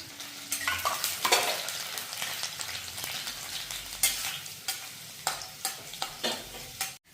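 Finely chopped garlic and whole spices sizzle in hot oil, stirred with repeated scraping strokes in a loose rhythm over a soft steady frying hiss, close up and without speech.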